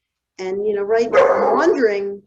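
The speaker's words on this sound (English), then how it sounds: "I'm sorry about the dog." A dog barks in the background of a home interview, its yaps partly buried under a man's steady, close speech.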